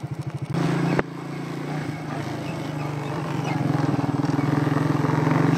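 A 1992 Suzuki Quadrunner 300 ATV engine runs nearby, a steady rhythmic putter after a few starting chugs, rising gradually in loudness as it revs.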